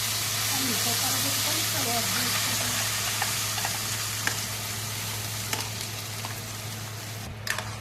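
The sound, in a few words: garlic and tomato chutney frying in a pan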